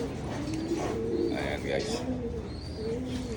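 Pigeons in breeder cages coo repeatedly in low, throaty rolls, close by and layered over one another, while someone talks over them.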